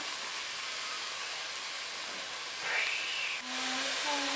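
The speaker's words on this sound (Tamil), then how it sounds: "காளான் போட்டு நல்லா கிளறி விடுங்க ஒரு நிமிஷம் வந்து காளான் வந்து நல்லா வதங்கட்டும்" Mushrooms sautéing in a pan for mushroom biryani give a steady, close, broadband hiss, with a short whistling whine near the end and no talking.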